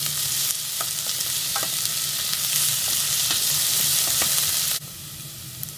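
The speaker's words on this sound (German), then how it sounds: "Das Ganze lasst ihr ein wenig anbraten." Onion, garlic and a pinch of sugar fry in a pan for curry sauce, a loud steady sizzle with scraping stirs and crackles that drops sharply in level near the end, no talking.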